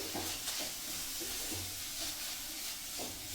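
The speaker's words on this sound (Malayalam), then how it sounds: "ഇതിൽ ഒരല്പം മുളക് പൊടിയും കൂടെ ചേർത്ത് കൊടുക്കുകയാണ്. എന്നിട്ടൊന്ന് ഇളക്കി യോജിപ്പിക്കാം." Bitter gourd thoran being stirred with chili powder in a hot pan produces a continuous, airy hiss, with soft periodic scrapes and light shuffling of the spoon through the vegetables.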